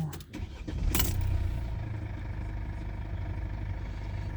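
A 2018 Mercedes-Benz C220 sedan with a 9G-Tronic gearbox starts up: a brief crank catches at about one second, then the engine settles into a steady, smooth idle heard close by.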